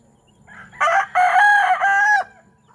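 A single full crow from a rooster, a native fighting cock, rings out close and loud for about a second and a half, with a short break partway through. A quiet farmyard background surrounds it.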